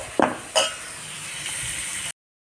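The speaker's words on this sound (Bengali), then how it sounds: "কড়াইতে দুটো পেঁয়াজ কুচি দিয়েছি" Chopped onions dropped into a hot kadai, a couple of sharp clanks of utensil against the pan followed by an even hiss of sizzling oil that continues before cutting off abruptly.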